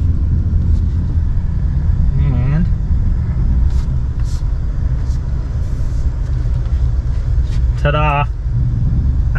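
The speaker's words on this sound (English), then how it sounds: "We got an RA STI." A Subaru RA STI sits with its engine rumbling in a low, continuous drone, heard up close with brief higher whines over it and people talking nearby.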